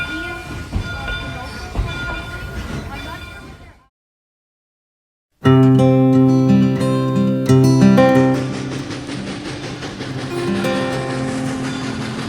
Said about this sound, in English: There's a train standing in the station.